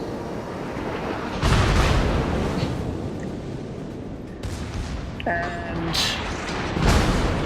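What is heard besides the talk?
naval gunfire from battleships in a warship video game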